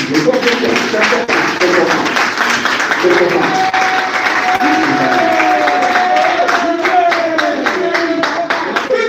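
Audience at a press conference for Werrason, sustained rhythmic clapping from a crowd, loud and close, with cheers and voices mixed in throughout.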